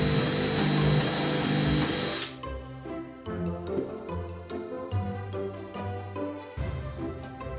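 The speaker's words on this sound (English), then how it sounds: "Then I countersink the hole into the OSB." A power drill whirs loudly for a couple of seconds while countersinking a hole in OSB, then cuts out, leaving scattered clicks, knocks and faint clatter.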